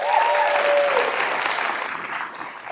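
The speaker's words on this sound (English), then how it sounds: "big round of applause for John" A round of applause from the audience at a Fort Worth startup demo day, a broad even clapping that swells early and slowly fades toward the end, with a brief whistle-like tone near the start.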